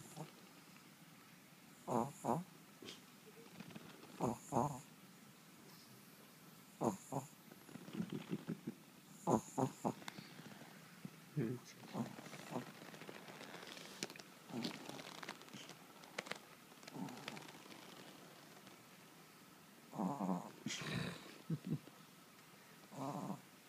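A dog snores indoors, with repeated rough snorting breaths rising and falling in an irregular rhythm, fairly close but soft, against a quiet room.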